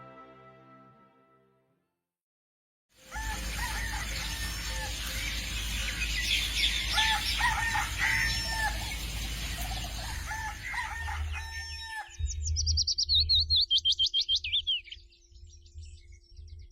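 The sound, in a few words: hen and chicks clucking and chirping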